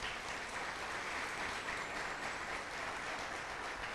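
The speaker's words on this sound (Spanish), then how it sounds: "Denle el aplauso a Él entonces por eso." A church congregation claps together in a steady, even wash of applause that holds at moderate volume throughout, with no talk over it.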